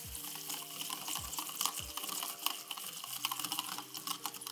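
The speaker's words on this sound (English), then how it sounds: "And we're gonna whisk until combined." Chia seeds whisked with milk and agave syrup in a bowl, a faint quick clinking and swishing of the whisk close by, with a few soft knocks at the start.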